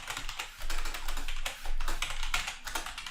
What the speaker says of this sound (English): I'm just going to type in assertions